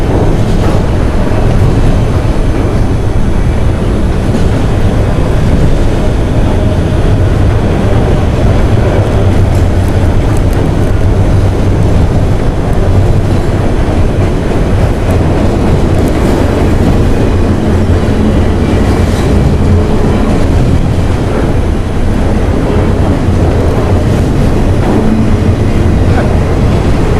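A 5000-foot freight train led by NS3625, a black-faced Tier 4 GEVO locomotive with CP power, rolls past close and loud, a heavy continuous rumble with rattling wheel clatter and low engine drone throughout.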